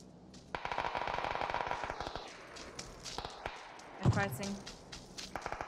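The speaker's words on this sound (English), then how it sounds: "Wait, was that you sniping?" Gunfire in the video game PUBG on the Karakin map, a sniper rifle among rapid repeated shots and sharp cracks, with players talking over it.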